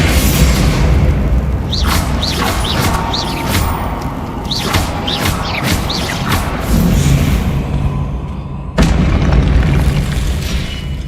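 Bombarda explosion spell in Hogwarts Legacy, deep booming blasts over a dense, loud combat din, with several whooshing bursts early and a sharp heavy hit near the end.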